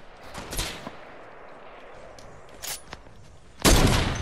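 Gunfire in the Fortnite video game comes as a few scattered shots and a louder closer burst at the end, over a low background hum.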